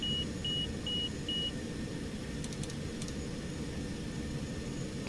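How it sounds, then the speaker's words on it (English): Autopilot disconnect warning in a Cessna Citation X flight simulation in X-Plane 12, four evenly spaced high beeps over a steady low cabin and engine drone, followed by a few faint clicks. "So autopilot disengaged."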